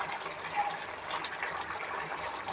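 Coconut milk poured from a glass into a pan of prawn curry, giving a steady, soft liquid gush that runs unbroken for a few seconds, close by and alone.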